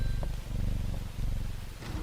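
A cat purrs softly when petted in the video game Strange Horticulture, a low continuous rumbling that stays steady for a couple of seconds without speech.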